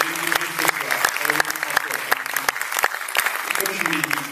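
An audience applauds at a film presentation, dense close clapping sustained throughout with sharp individual claps standing out and a few voices murmuring underneath.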